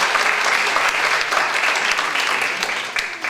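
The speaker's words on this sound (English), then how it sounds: "Good round of applause." An audience at a high school symphonic band concert applauds the band's freshmen with a dense, sustained wash of clapping that fades slightly at the end, with no speech over it.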